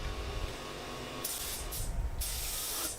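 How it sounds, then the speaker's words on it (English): Lacquer sprays from a spray can onto a jarrah and beech wooden box, a close loud hiss starting after a quiet moment, broken by a short pause, then continuing steadily. "Just spraying it up now with lacquer"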